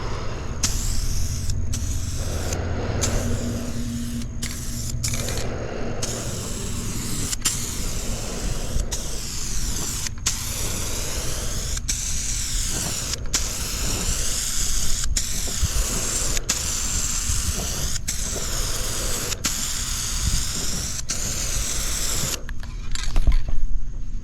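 Rust-oleum gloss black aerosol spray paint hisses steadily in repeated close bursts, with brief pauses between passes and no talking.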